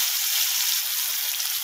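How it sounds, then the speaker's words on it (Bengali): Garlic sizzles in hot oil with cardamom, cinnamon, bay leaf and black cumin, a steady loud hiss throughout with no talk. "এবার আমি যে রসুনটা থিতিয়ে রেখেছি সেটা আগে দেব।"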